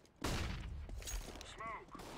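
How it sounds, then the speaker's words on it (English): A flashbang grenade goes off in a Counter-Strike: GO match, a sharp burst followed by a loud sustained ringing wash of noise, with bright whistling tones near the end and a voice briefly in the mix. "Throwing flashbang."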